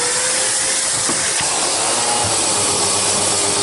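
A Hoover Constellation vacuum cleaner running, a loud, steady, even hiss and whir that continues unbroken for a few seconds with no talking.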